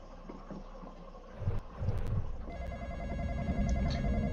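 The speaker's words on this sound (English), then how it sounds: "The phone's apparently broken, so we'll keep ringing." A telephone keeps ringing in a horror video game, a repeating electronic ring that rises out of rumbling, windy ambient noise and continues steadily to the end.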